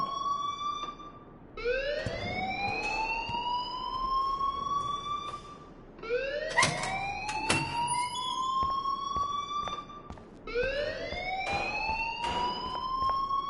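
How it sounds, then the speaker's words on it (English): Alarm siren in the video game Life is Strange, rising up in pitch then holding, repeating three times in a steady cycle, fairly clear and alone with no talk. "please turn off that alarm since that's your job"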